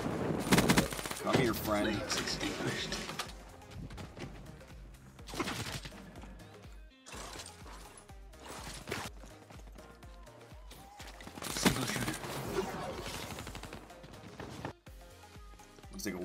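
Rapid bursts of VMP submachine gun fire in Black Ops 4, loud and repeated in clusters across the stretch, mixed with game effects and a short spoken line.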